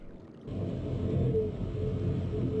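Wind in the video game realMyst: after a brief quiet start, a steady low rumbling rush swells in and holds evenly, with a faint tonal whine drifting through it.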